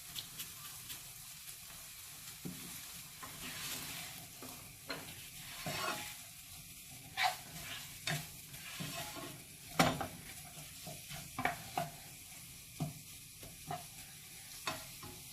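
Chicken and mushrooms with dried herbs, salt and pepper frying in a pan, a soft sizzle under repeated scraping stirs and utensil knocks, close but fairly quiet.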